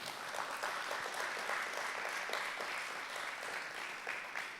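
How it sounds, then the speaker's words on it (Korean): Audience applause at a Korean award ceremony and hall of fame induction for the president of Gachon University: sustained, fairly faint and distant clapping throughout. "박수 좀 부탁드리겠습니다"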